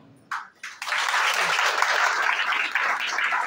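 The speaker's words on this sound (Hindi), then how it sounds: "मुझे ये बताओ कि इसमें ताली बजाने वाली कौन सी बात है?" Audience clapping in an indoor seminar hall, a few scattered claps swelling into steady, sustained applause from a crowd.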